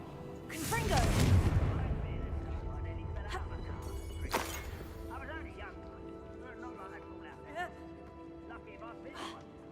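A Confringo blasting spell in Hogwarts Legacy bursts with a loud, rumbling whoosh and crackle early on, followed by a sharper secondary crack and scattered magical chimes and effects as the sound settles.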